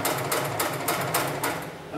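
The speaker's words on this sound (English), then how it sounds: "set my foot back down, and continue sewing" A heavy-duty webbing sewing machine for heavy lifting straps stitches steadily, close and loud, with a fast, even mechanical clatter and regular needle strikes throughout.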